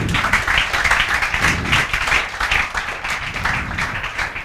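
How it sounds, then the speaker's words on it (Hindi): Audience clapping loudly at a lecture session as a student comes up to collect a cheque, dense steady applause filling the room without pause. "बजाओ तालियां जोरदार"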